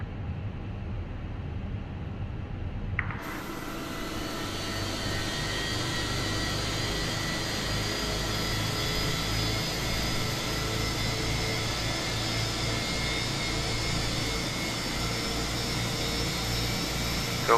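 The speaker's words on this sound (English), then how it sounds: "Alright, let's start engine number 1." Airbus A320 jet engine spooling up on start in Microsoft Flight Simulator, a steady broadband whine that kicks in abruptly after a quiet hum and holds a constant roar throughout.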